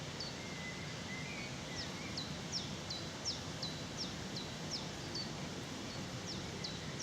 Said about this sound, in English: Now if you listen carefully, there's a sedge warbler in here.